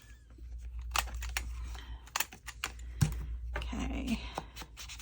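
A paper tag is trimmed and its bottom rounded with a run of quick, close clicks and snips over a low steady hum, irregular in rhythm, with a brief scraping rustle partway through.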